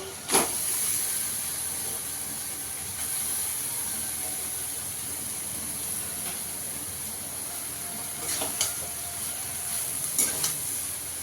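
Cabbage fries in hot spiced oil with a constant hissing sizzle, broken by a few louder sharp bursts as it is added and stirred into the pan.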